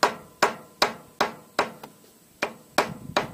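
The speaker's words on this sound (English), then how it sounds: "just come through and lightly tap. And just tap right along the edge" A hammer lightly taps gasket material along the edge of a cast iron carburetor, giving eight or so crisp, close knocks at a steady rhythm, each with a short decay.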